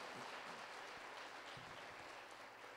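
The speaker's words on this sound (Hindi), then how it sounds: "ताली बजाएं जोर से परमेश्वर के लिए" A church congregation claps in a steady, dense wash of applause, moderately loud and fairly close, with no clear talking over it.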